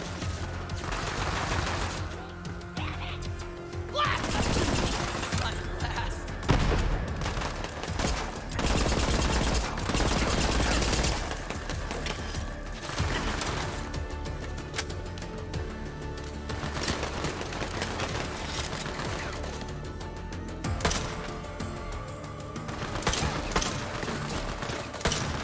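Gunfire in Borderlands 3, rapid bursts of shots and crackling automatic fire that repeat loudly and densely for a long stretch, with no voices.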